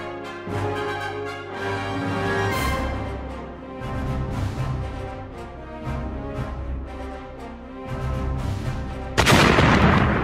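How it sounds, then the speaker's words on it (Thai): Rumbling, booming blasts roll on continuously in a game soundtrack, ending in a sudden loud burst of explosive noise near the end. "ระเบิดลูกใหญ่สุดๆ"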